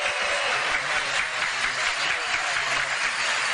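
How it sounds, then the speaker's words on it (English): An audience at a Neshoba County Fair football roundtable applauds the coaches with steady, dense clapping that holds at an even level throughout. "So let's give our coaches a round of applause."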